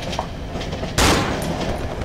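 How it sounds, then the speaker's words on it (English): A single sharp pistol shot in the horror game Cry of Fear, loud and close, cutting through a steady background of game ambience and noise. "Maybe snipe them with a pistol. Try to headshot them."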